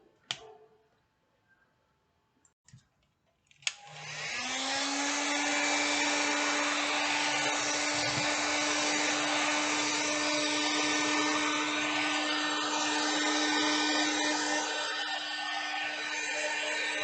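Hair dryer drying paint on a mandala artwork, switched on after a few small clicks and then blowing in a loud steady whine and rush close by, with no voices.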